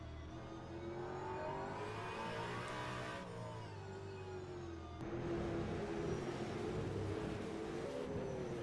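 A V8 Supercar in the sim racing V8 League at Adelaide hums along in second gear, engine pitch rising and falling smoothly as it rolls through a corner, then a steadier drone after a shift, with no talk.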